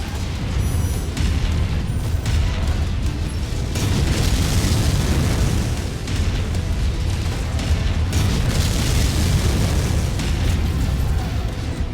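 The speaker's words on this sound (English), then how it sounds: "New target Battlemaster incoming missile." Heavy missile explosions and booming impacts from mech combat in MechWarrior 5, a dense, continuous rumble that is loud throughout with no pauses.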